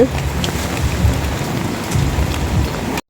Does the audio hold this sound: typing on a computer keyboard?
no